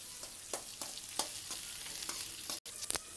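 Paneer cubes frying in a pan while being stirred continuously, an even sizzle broken by regular scraping strokes of a spoon and a brief dropout near the end.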